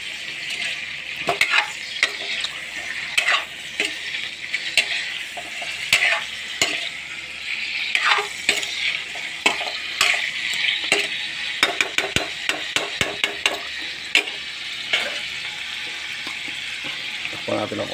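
Food sautéing in a pan, with a steady bright sizzle broken by repeated scraping and clinking of a utensil stirring against the metal, close and busy throughout.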